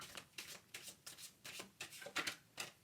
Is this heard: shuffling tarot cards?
yes